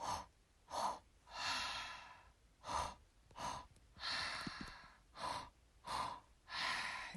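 Deep, slow breathing during an anger-release breathwork exercise, with long audible inhales and exhales alternating steadily and close to the microphone, no talking.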